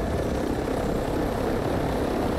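A video game helicopter drones loudly and steadily from inside the cabin, a continuous low rotor and engine rumble with no break or voices.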